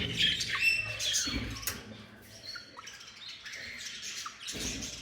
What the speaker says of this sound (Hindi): उसके साथ आपको एक ब्लू रिंग नेक का ब्रीडर मेल चेक करवाते हैं माशाल्लाह।